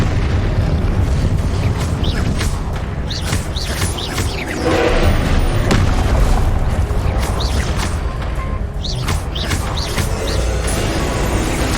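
Confringo fire spell explosions in the video game Hogwarts Legacy: dense, roaring blasts and booming bursts layered with crackling combat effects, continuous and loud throughout the clip.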